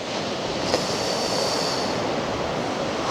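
Sea waves at Silverstrand Beach at night wash in a continuous broadband roar, close and steady, with no voices.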